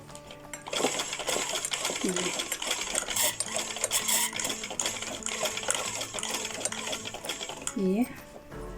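Sewing machine stitching the neckline of a suit kameez, a close rapid mechanical rattle running throughout with small clicks, while a person talks over it.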